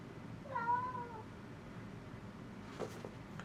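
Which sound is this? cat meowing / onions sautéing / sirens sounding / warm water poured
cat meowing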